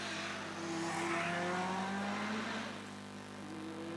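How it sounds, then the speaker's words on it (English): A Mitsubishi hillclimb race car at Shelsley Walsh, its engine a distant, sustained tonal drone that rises and falls in pitch as it climbs the hill, faint under a broad outdoor wash. "Sounds just like a proper Mitsubishi."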